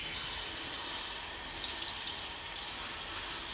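Water runs steadily from a kitchen tap while salmon is rinsed under it, a constant close hiss with no speech.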